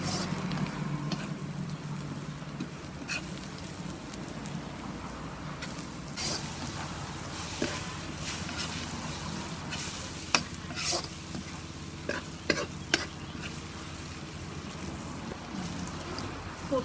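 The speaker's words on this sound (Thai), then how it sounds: "คั่วพริกคือแบบ ไหม้แบบหอมๆเลยนะคะ แบบนานๆเลยนะคะ" Chilies dry-roasting in a pan, Burmese style, with a steady low crackle and scrape throughout, broken by a few sharp spatula knocks against the pan near the end.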